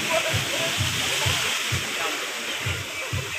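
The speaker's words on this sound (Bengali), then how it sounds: "ওই তো বালতিটা ভরে যাচ্ছে, জলটা ফেলে দিচ্ছে।" At a water park, a tipping bucket fills and pours, producing a loud, continuous rushing roar of falling water with faint voices underneath.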